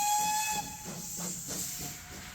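A Koleje Wielkopolskie steam locomotive at Poznań station gives a steady, loud hiss of steam, with sustained whistle tones layered over it and faint rhythmic chuffing pulses underneath.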